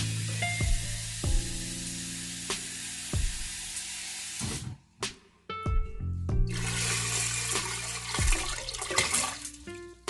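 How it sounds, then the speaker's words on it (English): Water pours steadily into a pressure cooker with a splashing, rushing sound, broken by a brief pause and some clanking, then continues pouring. "I'm gonna add some more water there."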